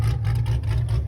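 Supercharged 427-cubic-inch engine of a tuned 2016 Corvette Z06, running with a heavy, steady low rumble and a faint whir above it, close and continuous for a brief moment with no talk.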